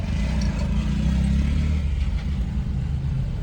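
A car driving on a road at night gives a steady, close engine rumble with low road noise, continuous throughout and without talk.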